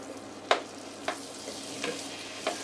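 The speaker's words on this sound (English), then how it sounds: "I'm going to melt this butter down." 60 grams of butter melting in a pan, a soft steady sizzle with occasional sharp pops and clinks, close and fairly quiet.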